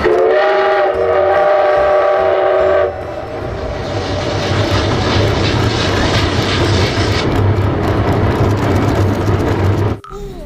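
A steady, loud whistle-like tone from a Thomas toy train sounds for a few seconds, then gives way to a rushing mechanical hum that cuts off abruptly.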